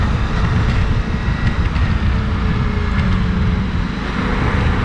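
A Ducati Multistrada V4S motorcycle engine drones steadily while riding, loud and continuous, with heavy wind rush over a low engine rumble throughout.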